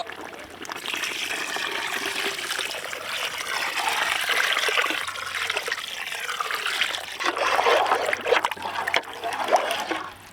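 Water trickles and pours into a pot of mutton and hyacinth bean sambar, a continuous soft splashing stream that rises and falls, with faint low background hum.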